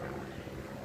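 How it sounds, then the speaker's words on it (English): Propeller airplane passing overhead, a steady broad engine drone holding at moderate level for the whole short moment, with no break or change in pitch. "Sorry about the plane."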